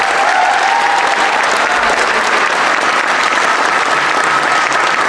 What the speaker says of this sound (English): Can you guys give them one more round of applause?